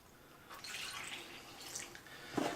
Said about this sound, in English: I'm just gonna go ahead and add my 650 grams of water.